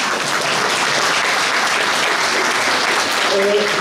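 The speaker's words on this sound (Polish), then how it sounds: "Wielkie brawa dla pani Ani." A Women's Day gathering breaks into dense, continuous applause that holds at an even level throughout, with a brief tonal sound near the end.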